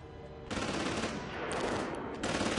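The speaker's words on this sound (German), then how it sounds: "Da wird geschossen." Sustained automatic gunfire in the horror game Outlast: Whistleblower, a dense rapid burst of shots running nearly the whole time, loud and close, with a brief dip partway through before the firing picks up again.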